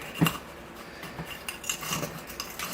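A baobab-style jade bonsai is worked loose from its pot with a tool, giving a few short scrapes and clinks against the pot's rim, close and fairly quiet.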